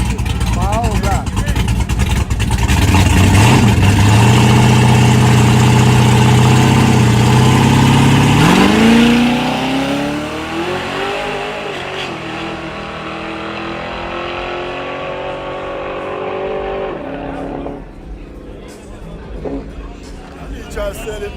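Small-block V8 car engine, loud near revving that climbs and drops in pitch then settles into a rougher idle while people talk over it.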